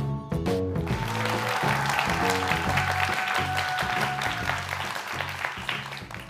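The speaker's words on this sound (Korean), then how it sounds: "오늘 이렇게 또 큰 박수를 쳐주셔서" Applause from an audience at a Korean lecture event, a sustained crowd clapping over loud background music with a rhythmic low beat and a held tone throughout.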